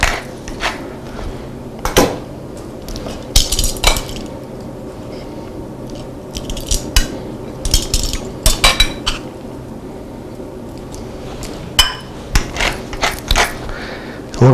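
A pepper mill grinds over pork tenderloin seasoned with salt and Dijon, giving scattered dry crunching bursts and clicks, close and fairly loud, with quieter gaps between turns.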